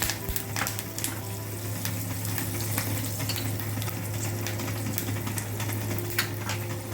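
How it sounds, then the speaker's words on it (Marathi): Sesame seeds and curry leaves sizzle in hot oil as a tempering for white dhokla, a steady close crackle with scattered pops over a low hum, with no talk. "छान खमंग फोडणी तयार झाली आपल्या."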